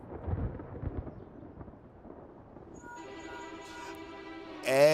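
In the Final Fantasy XIV video game, a thunderstorm opens with deep rolling thunder rumbles that fade. A sustained musical drone then rises beneath, growing louder toward the end.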